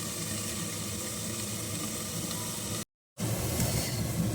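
Beans frying in a covered pan: an even, continuous sizzle and hiss that holds steady, briefly cuts out, then resumes.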